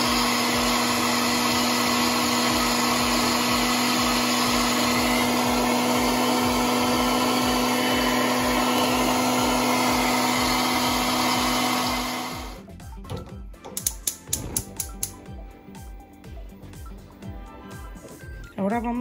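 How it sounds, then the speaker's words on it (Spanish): A kitchen blender grinds birria chiles with chicken broth in a loud, steady whir for about twelve seconds, then cuts off, leaving a few scattered clatters and knocks. "Vamos a moler y ahorita continuamos."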